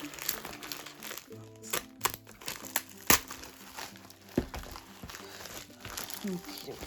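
Sharp rips and crinkles of tape being torn off a tightly taped-shut package containing a diamond painting kit, coming in irregular bursts close by, with some talk mixed in.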